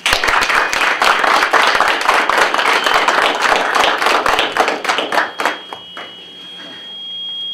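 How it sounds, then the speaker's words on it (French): Warm applause for comrade Pascal Pemangoy at a Gabonese Democratic Party anniversary celebration, loud close clapping from a crowd for about five seconds, tapering into a few last claps and a lingering tone. "je voudrais vous demander de bien vouloir l'applaudir très très chaudement"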